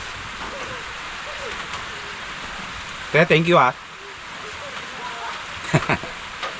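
Constant hiss of heavy rain fills the background throughout, with a short burst of speech breaking through twice.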